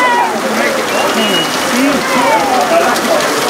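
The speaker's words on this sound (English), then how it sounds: "just to give you an idea of how hard this rain's coming down here tonight" Heavy rain pours down on a night high school soccer field, a loud, dense, continuous hiss with faint crowd sounds underneath.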